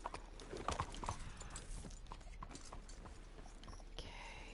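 Pony hooves clip-clopping in a PS4 video game, a quick irregular run of hoof knocks up front that settles into a softer steady patter over a busy game soundscape.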